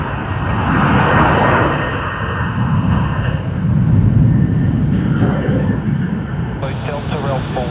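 A Qantas Airbus A330-300 arriving from Tokyo Haneda at Sydney Airport, its jet engines roaring loud and steady up close, swelling and easing, with a voice speaking over the noise.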